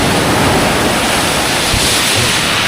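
Strong ocean waves crash and wash in a dense, loud roar of surf that fills the whole moment without a break, with wind buffeting close to the microphone.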